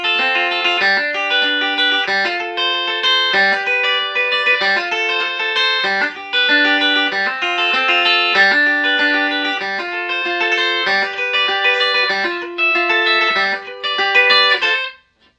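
An electric guitar strums chords in a steady, bouncy rhythm, bright and close, with effects coloring each repeated stab.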